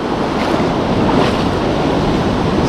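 Ocean waves rolling onto a reef around a rock where someone stands fishing, a steady loud wash of surf mixed with wind buffeting the microphone, continuous throughout with no voices.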